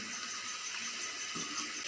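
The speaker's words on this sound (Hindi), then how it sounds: "अब हम अपने टेस्ट के हिसाब से आप इसमें पानी ऐड करेंगे।" Water poured into a cooking pot of browned potatoes and meat for an aloo gosht shorba, a steady close rushing splash with no talk.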